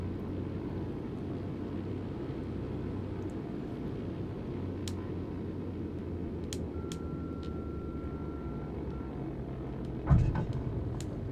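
Socata TB-30 trainer in MSFS 2020, a steady broadband engine drone holding level throughout, close and constant, with a brief clunk and rattle near the end.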